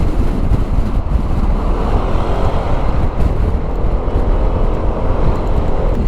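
Street traffic in Alexandria at iftar time on the first day of Ramadan 2023, many cars passing: a steady broadband roar of engines and tyres with wind buffeting the microphone, continuous and fairly loud.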